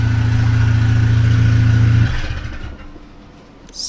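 A Ford Focus RS engine idles with a loud, steady, deep hum for about two seconds, then is switched off and winds down into near silence.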